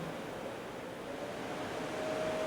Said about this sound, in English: let's try different fan speeds. So this is the natural wind.